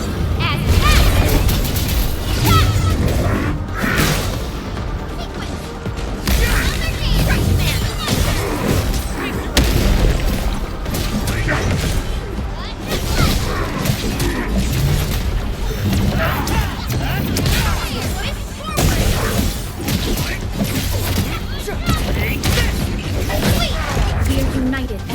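Weapon fire and explosions from the video game Arknights: Endfield, dense repeated blasts, crashes and mechanical impacts over a loud continuous battle bed, with voices speaking throughout.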